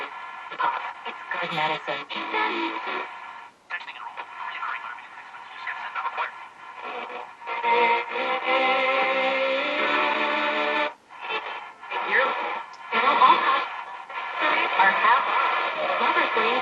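Garbled stations from an RCA 8R71 radio receiver under restoration, a loud, continuous band of distorted, warbling broadcast sound that cuts out briefly several times and then returns.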